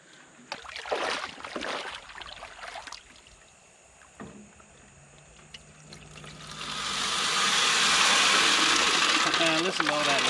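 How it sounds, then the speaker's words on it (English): Lead pieces rattle and swish with water in a gold pan while cleaning bedrock crevices outdoors, first as scattered clinks and scrapes, then a rising, steady washing rush toward the end. "Listen to all that lead."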